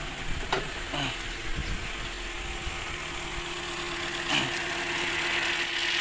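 A Toyota car engine idles steadily after an engine wash, a close, even mechanical hum with a few faint clicks and handling noises; no speech.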